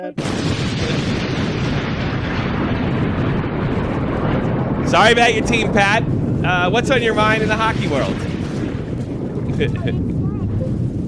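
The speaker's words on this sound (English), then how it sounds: "Wait till the explosion sound effects go away." Explosion sound effects roar as a continuous loud, rumbling wash of noise throughout, with sharp crackling bursts, beneath men chatting on a hockey talk show.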